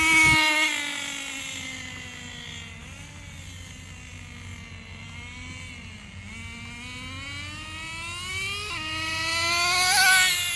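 A Traxxas 4Tec nitro RC car with a Pro .15 engine drones steadily at high pitch, its whine sliding up and down as the throttle varies and swelling louder near the start and end, with no talk.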